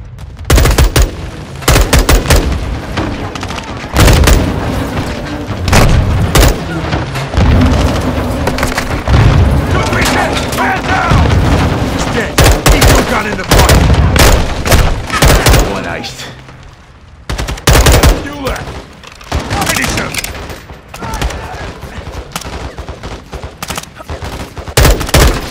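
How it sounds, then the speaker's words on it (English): Dense gunfire and booming grenade explosions in the Call of Duty Modern Warfare 2 campaign, with rapid automatic bursts and heavy blasts, loud and continuous with brief lulls throughout. "Incoming! Take cover! They're launching grenades!"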